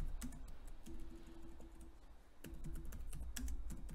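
Rapid typing on a computer keyboard, with steady clicking keystrokes in quick clusters over a low background hum and no voice.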